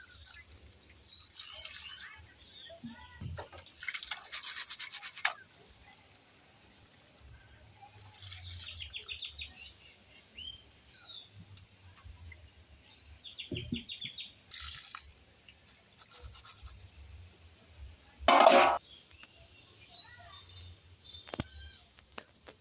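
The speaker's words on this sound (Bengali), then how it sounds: "দেখুন এই মাছগুলো দিয়ে ক্যারি রান্নার আগে মাছগুলোকে একটু ভালো করে ধুয়ে নিতে হবে।" Raw prawns being rinsed in water in a village kitchen for a curry: soft, intermittent splashes and drips, with a few brief louder bursts of pouring water against a quiet background and a faint voice now and then.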